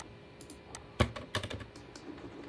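Computer keyboard keys tapped for a shortcut while drafting in Revit, a few sharp close clicks with one louder strike near the middle, then lighter scattered taps in a quiet room.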